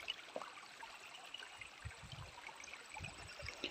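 A river flows and trickles steadily over stones on farmland, a soft, continuous babble with small splashes, fairly quiet and alone.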